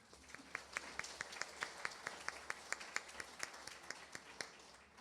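A church congregation at a founding service claps in faint, distant, evenly spaced beats, a soft steady rhythm of distinct hand claps over a quiet room.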